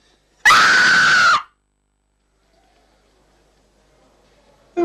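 A person lets out a loud, sustained scream lasting about a second, followed by near silence, with another scream just beginning at the end.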